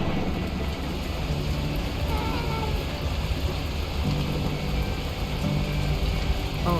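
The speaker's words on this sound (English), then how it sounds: "At that moment, the heavens opened up, unleashing torrential rain." Torrential rain pours in the video game Beacon Pines, a steady, dense hiss of downpour that fills the scene at moderate volume, with no talk.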